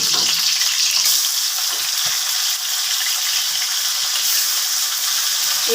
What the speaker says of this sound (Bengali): এবার আমি সব মাছগুলো ভেজে নেব।